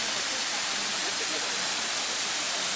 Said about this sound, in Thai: น้ำตกตาดสะดอหรือน้ำตกก้อน้อยนะครับคนพื้นที่เรียกน้ำตกก้อน้อย